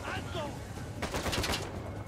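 A rapid cluster of enemy gunshots in the Uncharted 4 video game, sharp cracks bunched together in the middle of the moment, with talking and game sound before and around them.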